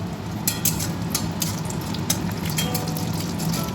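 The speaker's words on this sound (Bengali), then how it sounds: "তেলে আমি শুকনো লঙ্কা তেজপাতা দিয়ে দিলাম," Dried red chillies and bay leaves fry in hot oil, producing a close, continuous sizzle punctuated by brief sharp crackles and spits.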